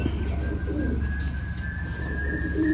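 Pigeons coo softly in a short burst, with a few low calls over a constant background hum.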